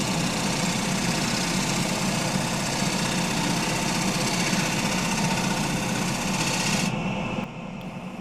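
Wood lathe spinning a punky, wet spalted alder bowl while a scraper makes a light shear scrape: a loud, steady motor drone and whirring hum throughout that drops abruptly near the end, with no talk.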